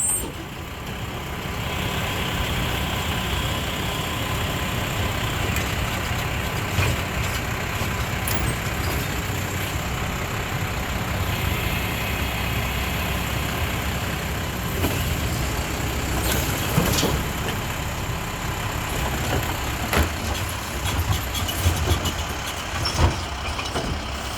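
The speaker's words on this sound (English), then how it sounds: "it's a Heil Python on a Mack chassis" A 2018 Mack LR613 garbage truck with a Heil Python side loader runs steadily nearby, a continuous engine rumble with mechanical clatter and hydraulic whine throughout, with no talk.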